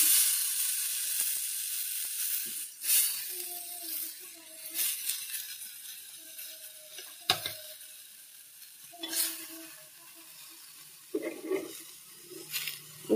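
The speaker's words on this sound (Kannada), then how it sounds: "ಈ ಟೊಮೆಟೊನ ನಮ್ಗೆ ಎಷ್ಟು ಬೇಕೋ ಅಷ್ಟು ಟೊಮೆಟೊನ ಹಾಕಿ ಇದನ್ನು ಫ್ರೈ ಮಾಡ್ಕೋಬೇಕು" Tomatoes frying in a pan for spicy rasam, a soft steady sizzle with occasional clinks and scrapes of stirring, quiet and close, no talking.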